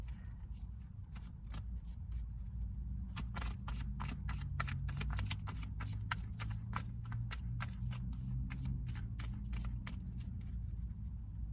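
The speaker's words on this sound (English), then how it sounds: "That's the shuffling." Playing cards are shuffled steadily and close up, a long run of rapid crisp riffling clicks over a low background hum.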